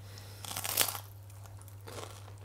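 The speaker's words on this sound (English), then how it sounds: "Can you hear the crunch?" A single crisp bite into a homemade keto five-seed cracker, with a short loud crunch and a fainter second crunch after it, close up and heard alone.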